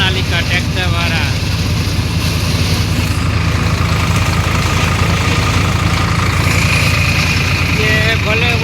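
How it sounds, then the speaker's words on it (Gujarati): A Sonalika tractor drives a Shaktiman mobile shredder cutting cotton plants in a field, its engine a loud, steady, unbroken drone close by, with a voice faintly audible beneath it. "રાજેશભાઈ કટેસિયા સોનાલિકા ટ્રેક્ટરવાળા"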